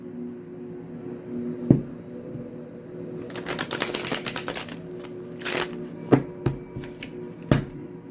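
Cards are riffled and shuffled in a few bursts, with a longer run of crisp, rapid flutters in the middle and sharp taps of the deck being squared between them, close and fairly loud over a low background hum.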